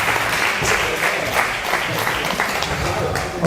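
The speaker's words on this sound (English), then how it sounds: "Let's give a round of applause for Conor." A conference audience in Los Angeles applauds a speaker, producing a sustained, even roar of many hands clapping that carries through the whole stretch at steady loudness.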